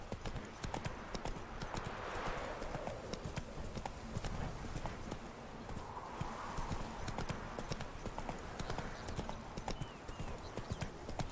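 Video game horse Roach gallops steadily at close range, a continuous rapid clip-clop of hooves with brief snorts, carrying on alone throughout.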